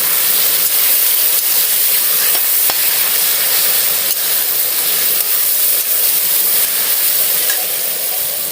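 Mashed mango pickle being stirred in a hot pan gives a steady, loud sizzle and hiss that runs unbroken throughout, with no voices over it.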